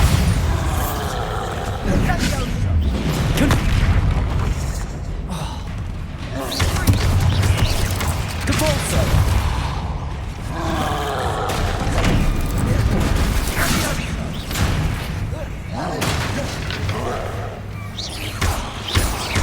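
Repeated booming Bombarda spell blasts from Hogwarts Legacy, heavy thuds and explosions in a busy battle, with a voice shouting over the din.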